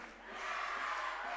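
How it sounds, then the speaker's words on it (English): A home crowd at a high school basketball game in Eunice cheers for the Eunice Cardinals, a swelling roar of voices building from soft to loud and holding in the gym. "you can hear how loud they're getting as they support this Eunice Cardinals team"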